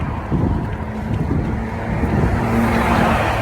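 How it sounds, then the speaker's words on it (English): A car shoots past at 90–100 km/h on a busy two-lane road, heard from a cyclist in the cycle lane: a steady loud roar of tyres and engine mixed with wind buffeting the microphone, swelling toward the end. "this guy's shooting past at 90-100k an hour"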